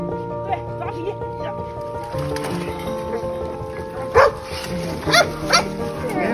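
A dog just pulled from a frozen lake barks and yips in a few short, sharp bursts close by, over a bed of people talking and background noise.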